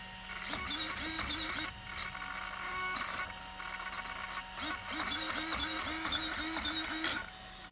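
A SAVOX SC-1256TG steering servo on a Traxxas UDR 6S whirs in repeated short bursts, its high mechanical whine rising and falling as the steering sweeps back and forth, with brief pauses between runs.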